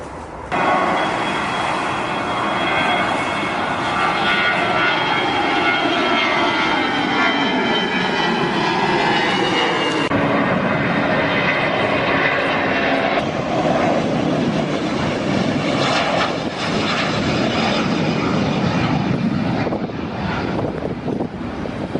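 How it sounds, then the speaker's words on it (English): A jet airliner taking off at Geneva Airport in Switzerland: a loud, sustained engine roar that stays steady for the whole stretch, with rising and shifting tones running through it and no talking. "Every 5 or 10 minutes, a plane takes off from here."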